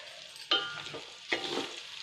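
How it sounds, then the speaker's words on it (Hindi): Rice goes into a hot pan for zarda sweet rice over a medium flame, giving two short bursts of sizzling and stirring scrapes separated by a quiet hiss. "राइस डाल दो, इस तरह से डालेंगे थोड़े राइस"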